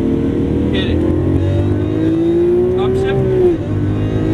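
Lamborghini Aventador accelerating hard on a race track, a loud close engine note climbing steadily in pitch before cutting off at an upshift, with a voice talking over it.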